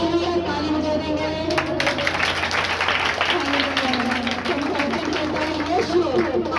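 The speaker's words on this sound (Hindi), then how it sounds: "ताली बजा देंगे।" A church congregation claps along during a Hindi worship service, a dense steady patter of many hands filling the room, with voices talking and calling out over it throughout.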